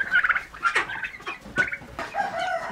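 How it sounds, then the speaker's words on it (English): Farmyard ducks calling together, a dense run of loud, close squawking and honking calls overlapping without pause. "Those are the ducks, and they all found each other."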